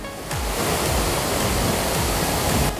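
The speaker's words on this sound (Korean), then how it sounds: "크고 작은 폭포와 암석들은 사람을 압도하는 듯합니다." Rushing water from waterfalls among rocks in a mountain valley pours in a loud, unbroken hiss and roar, heard up close, with no voices over it.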